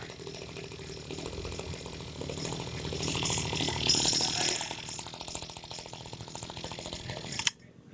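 A TU 26 sprayer engine sputters and chugs as it tries to start but fails to run, giving a busy rattling, irregular sound that cuts off abruptly near the end.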